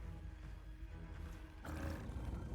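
A large monster in Monster Hunter Wilds lets out a deep, rumbling roar, fairly faint at first and then swelling louder and rougher toward the end.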